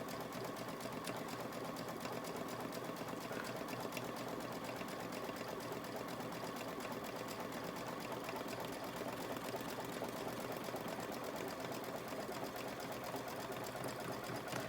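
Embroidery machine stitching a medical mask, a steady fast mechanical needle chatter that runs continuously at an even moderate level with no pauses.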